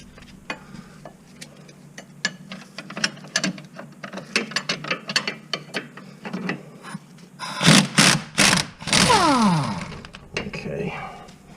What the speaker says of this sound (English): Get that wrench on there a little bit better.